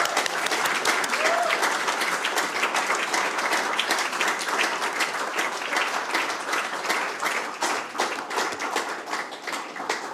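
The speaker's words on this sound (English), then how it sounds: "thank you for applause" Audience applause at the grand finale event of a peace project, sustained steady clapping from a large crowd lasting about ten seconds, fairly distant and even, slowly thinning toward the end.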